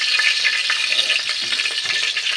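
Bay leaves crackle and hiss loudly in hot oil, a dense, steady frying sizzle filling the whole moment with no voices.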